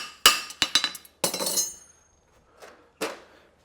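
Forging hammer striking a French hind horseshoe at the anvil: a quick run of sharp, ringing metallic blows, then a longer scraping hit and two more isolated strikes with quiet gaps between.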